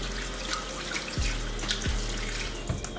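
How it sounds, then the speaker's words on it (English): A kitchen tap runs at a steady, moderate flow into a sink while hands are washed, with a few soft splashes and knocks. "I'm gonna wash my hands."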